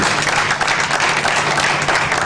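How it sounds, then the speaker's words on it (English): Brief, loud applause rises from a gathering at a medical center ceremony honoring young doctors and a biomedical engineering team, a thick continuous clatter of many hands. "Give your hand of applause, please."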